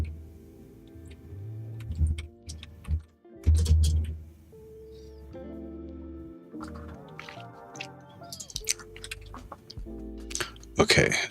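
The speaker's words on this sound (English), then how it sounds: "how you can hear me typing" Scattered keyboard clicks tap away close by beneath a person talking, the typing intermittent and partly buried by the voice.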